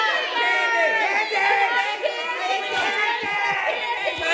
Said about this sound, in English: Start cheering now. Billy Bonka!